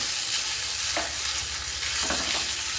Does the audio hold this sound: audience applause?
no